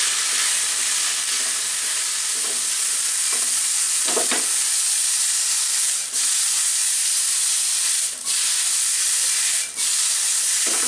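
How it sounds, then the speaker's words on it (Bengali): Chicken with cauliflower and green beans stir-fries in a pan with a loud, continuous sizzle and hiss, broken by regular scraping strokes of a spatula, close up and with no talking. "দিয়ে এটাকে এর সাথে একটু ভেজে নিতে হবে।"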